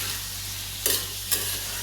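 Cucumber bhaji fries in a pan with a dense, constant hiss and crackle, close and even, broken by two brief louder bursts of sizzling.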